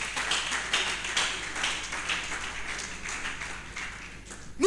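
A church congregation claps together during a Sunday worship service, a steady patter of many hands with brief stronger bursts, fairly close, ending in a short louder accent.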